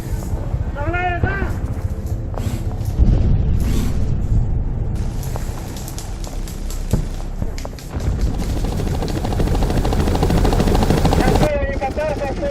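Loud, chaotic combat soundscape at an airsoft-style operation with rapid gunfire bursts and a steady helicopter rotor rumble, French-speaking voices shouting throughout.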